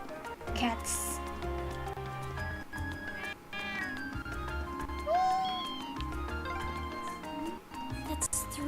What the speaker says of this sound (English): That's 3 cats now.